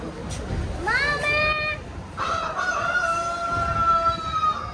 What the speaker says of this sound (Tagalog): Manok ni Kanok Guwapo